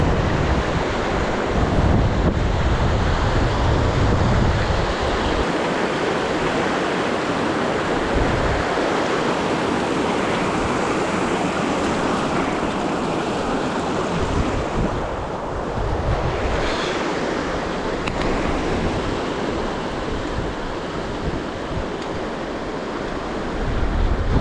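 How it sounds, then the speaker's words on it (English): A river rushes through the Lake District fells near Great End and Glaramara, a loud, steady broadband roar of flowing water mixed with gusty wind buffeting the microphone, continuous and close throughout. "I'm just about to hit the river."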